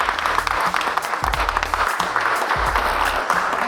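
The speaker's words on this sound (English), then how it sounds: "Give him a round of applause." Loud, steady applause from an audience after a magic trick, sustained crowd clapping throughout with brief swells, no talking over it.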